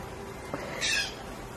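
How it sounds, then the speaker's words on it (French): A single short, harsh squawk from a bird that sounds unhappy, brief and moderately close against a steady background hiss. "Il est pas content l'oiseau?"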